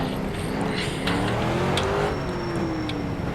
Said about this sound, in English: Try and warm the tyres as much as we can by accelerating, then brake.